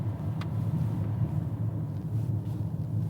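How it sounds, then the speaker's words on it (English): Steady low airflow from the air conditioning fills the hushed cabin of a Rolls-Royce Spectre, a soft continuous rumble with no talk and no other sounds over it. "The air conditioning breeze is louder than the ambient sound of the entire car."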